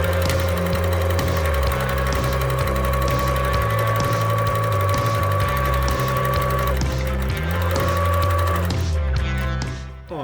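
A sewing machine runs continuously at a steady, loud, close pace, backstitching a fabric strip for a curtain tieback before stopping near the end.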